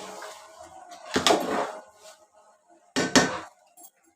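Kachi beef biryani being stirred in a pot, two separate bursts of scraping and knocking about two seconds apart, close and fairly loud.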